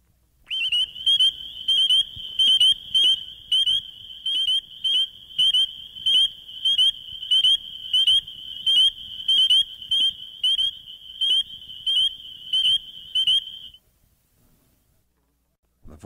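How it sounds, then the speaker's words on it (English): Spring peeper tree frog, Hyla crucifer, calling: a rapid, steady run of high, thin peeping notes, loud and close, repeated about a dozen times before stopping abruptly. "Tiny tree frog, the spring peeper, Hyla crucifer"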